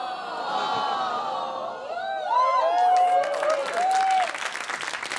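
A live comedy-show crowd in Laval claps and cheers, with whoops and shouted voices rising above the applause, then dense clapping continues alone toward the end.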